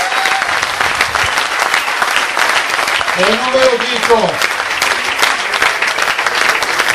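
Audience applause at a political rally in Veneto, a dense, sustained roar of clapping from a crowd, with a voice briefly rising through it in the middle.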